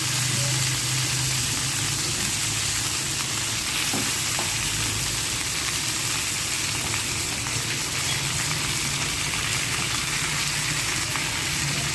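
Fried barbecue chicken sizzles steadily in sauce, a loud, dense, continuous crackling hiss close up that holds evenly throughout with only faint occasional knocks.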